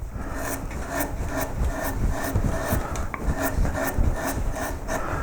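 Steady rasping and scraping of a blade removing wood from the head of a carved koi carp, with a rhythmic series of short strokes that stay fairly close and even throughout.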